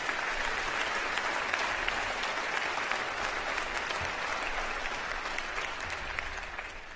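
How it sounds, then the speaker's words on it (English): Steady applause from a large audience at a university convocation ceremony, a broad wash of many hands clapping that holds evenly for several seconds at a moderate distance, with no talking over it. "I'd like a round of applause for those folks too"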